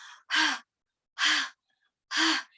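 A voice imitates heavy, tired breathing after running fast: three loud, breathy exhales with even pauses between them, close and alone.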